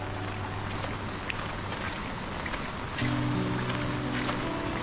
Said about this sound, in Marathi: आणि जोरदार पाणी आहे आवाजावरनं समजते